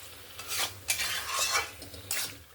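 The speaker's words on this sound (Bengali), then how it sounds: "আলু আর ওলকপিটা দিয়ে ভালো করে মশলার সঙ্গে কষিয়ে নেব।" A utensil stirs fried potato and kohlrabi with spices in a pan, scraping and clinking in several close strokes over a steady low sizzle, with no talk.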